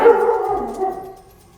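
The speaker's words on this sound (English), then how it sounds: "You can hear my dog. She is barking probably at somebody walking by." A pet dog indoors barks and howls at passersby outside, one drawn-out, wavering bark-howl that fades over about a second and a half, moderately loud with no talking.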